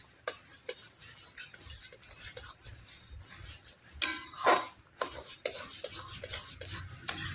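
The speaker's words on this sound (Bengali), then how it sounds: "সুজিটা দিয়ে দিয়েছি, এবার আমি নাড়াচাড়া করে মিশিয়ে নেব।" Semolina stirred into milk in a pan for a carrot sweet, with repeated close scraping and rubbing strokes and occasional clinks of spoon on metal, louder in bursts midway.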